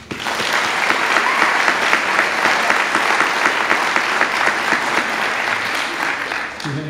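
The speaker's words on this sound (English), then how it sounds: "Another round of applause for all of our presenters." A full audience at a high school baccalaureate ceremony claps steadily for the presenters for several seconds, a thick wash of hand claps that tapers slightly at the end.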